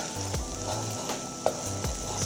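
Tomato paste fries and sizzles in a pan, a steady crackling hiss with a few soft scraping stirs, fairly quiet and without voices.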